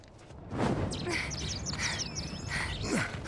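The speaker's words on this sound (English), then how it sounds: "Birds tweeting sound like a squeaky wheel." Squeaky bird chirps in Final Fantasy VII Rebirth, several short high tweets over a rustling game ambience with a faint low background hum.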